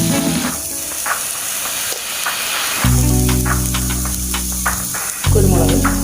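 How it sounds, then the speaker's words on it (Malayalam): Vegetables sautéing in a pan until they wilt give a steady sizzle and hiss, with stirring scrapes and clinks along the way. Two louder bursts of frying noise come partway through, and there is no talk. "എല്ലാം ഒന്ന് വാടി വരുന്നവരെ വഴറ്റിയെടുക്കാം"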